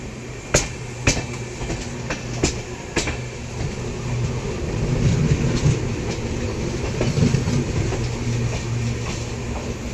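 The Farakka Express crossing the Amrit Bharat Express near Kanpur Central, heard as a loud close rumble with a few sharp wheel clacks early on, then a sustained rolling roar of passing carriages.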